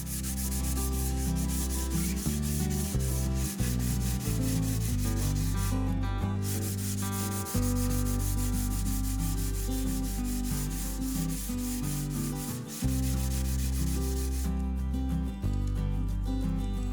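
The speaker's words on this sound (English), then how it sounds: "2 coats of white lacquer with some hand sanding in between using 240 grit" White lacquer is hand sanded with 240 grit sandpaper in steady back-and-forth rubbing strokes, close and continuous, with no talking.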